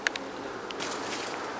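Honey bees crowd a single brood frame, their soft, steady buzzing forming a faint, continuous drone, with a couple of sharp clicks near the start.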